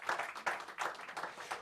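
An audience at a press conference for a city running series claps for the Executive Mayor of the Mangaung Metropolitan Municipality, with soft, steady applause from a small crowd that continues without pause.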